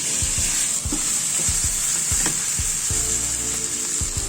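Chopped tomatoes fry and are stirred in a pot for quail biryani, a steady loud sizzle with regular scraping strokes of a spoon every half second or so, close by and without speech.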